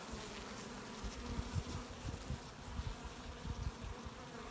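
Dense, steady buzzing of many honeybees close by in a hive box, a soft continuous drone with no voices.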